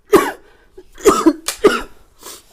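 A man coughs several times in short, harsh bursts, close and loud, with brief pauses between each fit of coughing.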